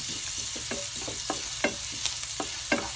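Garlic sautéing in a pan for tuna sisig, a steady close sizzle with irregular scraping stirs and clinks of a utensil against the pan, no voices.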